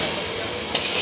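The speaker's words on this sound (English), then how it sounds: "they are boiling the potato in this giant pressure cooker" Steam hisses steadily from a giant pressure cooker boiling potatoes at a Kolkata street food stall, a loud, constant broadband rush that stays close.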